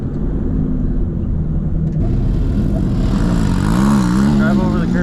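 A turbocharged YXZ side-by-side roars loudly and steadily close by, its engine revving and rising in pitch as it pulls away, with voices talking over it.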